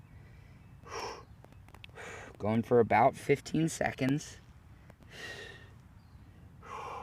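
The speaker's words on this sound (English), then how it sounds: "Just breathing deeply as you go." Deep breathing during a stretching routine, with slow audible breaths in and out near the microphone, interrupted by a brief spoken instruction in the middle.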